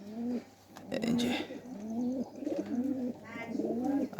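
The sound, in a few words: young Teddy and Giribaz cross pigeon cooing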